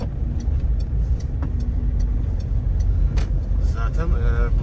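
Steady road traffic near Kumburnu beach at Ölüdeniz, Fethiye, with cars and a bus rumbling continuously at close range while people talk over the engine noise.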